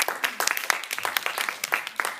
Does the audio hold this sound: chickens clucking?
no